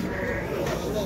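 Sheep bleat close by amid a busy Şarkışla livestock market selling pregnant ewes, their calls rising over a steady crowd murmur with people talking throughout.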